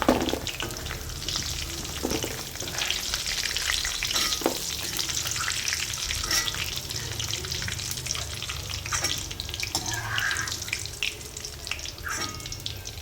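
Taro (arbi) pieces fry in hot oil in a pan, giving a steady, loud, continuous sizzle with occasional stirring scrapes and no voices.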